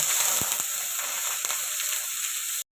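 Fish frying in hot oil in a home kitchen, a steady close sizzle and hiss with a few brief pops and clinks, continuous until it cuts off abruptly.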